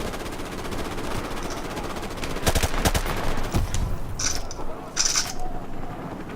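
Sustained supporting gunfire in the video game Call of Duty Modern Warfare Remastered, dense rapid automatic bursts rattling continuously with mechanical clinks and sharper shots standing out midway.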